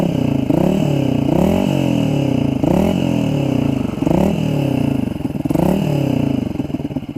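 A Yamaha Xabre fitted with a Tridente F22 carbon exhaust in silent mode, revved repeatedly: loud, close engine roars rising and falling in roughly five throttle blips, with no voices.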